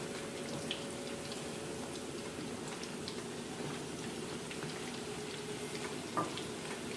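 Salmon croquettes fry in a pan with a faint, steady sizzle and crackle that holds evenly throughout, with no voices.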